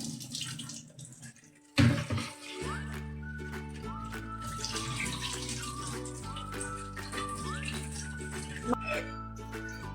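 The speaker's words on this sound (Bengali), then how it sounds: "তো এই মাছটা একটু ধুয়ে নিয়ে তারপরে আমি বাকি কাজটা আপনাদের সঙ্গে শেয়ার করছি" Fish being washed under running tap water in a home kitchen, a continuous hissing splash with bursts of sloshing and dripping, heard beneath steady background music.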